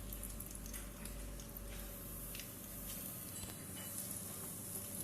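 Fish pieces frying on a portable gas cooker, a dense, even sizzle and hiss running continuously with small pops and crackles over a low burner rumble.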